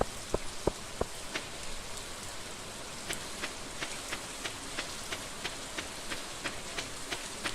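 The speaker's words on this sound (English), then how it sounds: "It's raining." Steady rain patters down in the game Stardew Valley, with a scattering of crisp droplet ticks, continuous and moderately close, with no voices.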